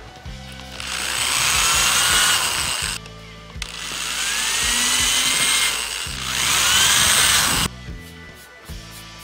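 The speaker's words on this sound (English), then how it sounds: "I use a 1/16 inch diameter drill bit to make the holes." A small power drill with a 1/16 inch bit whines in three bursts, each running a couple of seconds as the bit bites into wood, with brief pauses between.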